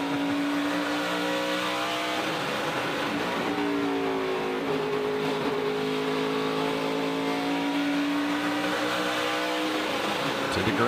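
Corey Heim's race truck on a qualifying lap at the 2022 UNOH 200, the engine holding a loud, sustained high-revving drone with rising and falling pitch as it sweeps around the track, close and continuous throughout.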